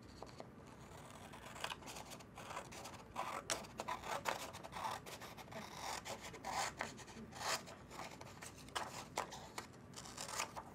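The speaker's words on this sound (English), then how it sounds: "So I'm taking my scissors and cutting up that line." Scissors snip paper along a straight line during an at-home arts and crafts session, giving a run of quick, close, crisp cuts and rasping slides spread across the whole stretch.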